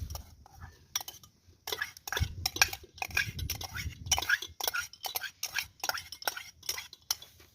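Teaspoon scraping and clinking as chopped onion is tipped into a cauldron over a campfire, repeated metallic knocks and scrapes under quiet talking.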